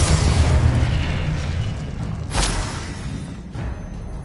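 Confringo blasting spell exploding in the Hogwarts Legacy video game, a heavy booming burst that decays into rumble, followed by a sharp secondary crack near the middle and a fainter pop later, with steady game ambience and no voices.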